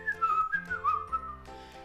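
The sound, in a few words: imitated whistling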